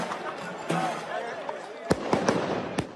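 Firecrackers thrown by gendarmes to disperse rioting protesters go off in several sharp, loud bangs late in the stretch, over a steady crowd roar with shouting voices throughout.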